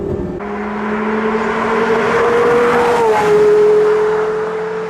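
A Porsche Carrera GT's V10 engine revs loud and close, its tone climbing steadily, then shifting pitch midway as it pulls, and staying strong to the end with no voices.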